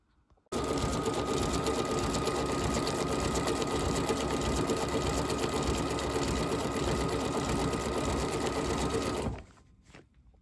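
A sewing machine runs steadily for about nine seconds, stitching a quilt-as-you-go pillow top with 30 weight thread, loud and close, then stops abruptly.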